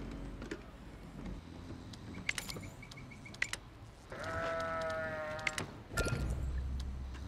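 Sheep bleat in the colony-survival game Surviving The Aftermath, a drawn-out wavering bleat standing out clearly, with scattered ticking game sounds and a further bleat near the end.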